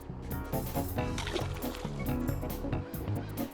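A caught crappie is released back into lake water with a sloshing splash and watery churning, heard up close for a few seconds against a steady outdoor background.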